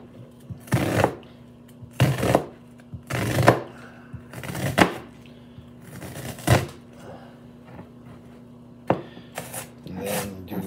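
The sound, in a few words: knife chopping onion into small dice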